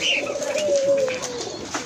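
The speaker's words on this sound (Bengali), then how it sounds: "এখানে ঘুঘু পাখিও আছে" A dove coos softly nearby, a low drawn-out call over a bed of other bird chatter and fluttering.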